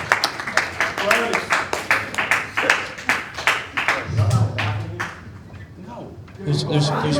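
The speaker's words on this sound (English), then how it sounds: "let's give a round of applause." An audience at a funeral claps in a steady, rhythmic burst that fades after a few seconds, with people talking over and after the applause.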